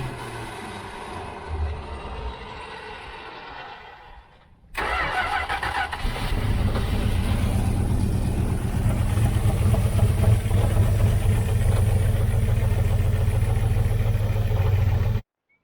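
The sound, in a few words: 1978 Dodge Aspen R/T engine starting and idling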